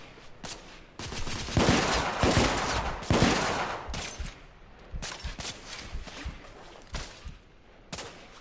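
Sustained covering gunfire in The Order 1886, a dense fusillade of rapid shots with bursts and scattered single cracks, loud and close, swelling and easing over several seconds without talk.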